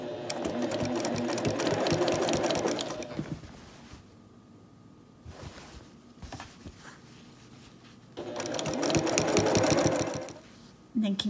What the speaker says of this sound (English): start stitching a quarter of an inch down from that edge